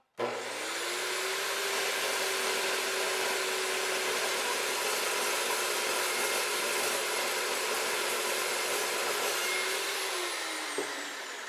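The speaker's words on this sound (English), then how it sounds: "This saw is dangerous, and that's why you keep your hands away from it." A DeWalt saw cuts a split clamp line into a Tormach CNC spindle clamp, giving a loud, steady high-pitched whine and hiss that holds for about ten seconds before spinning down, with no talk.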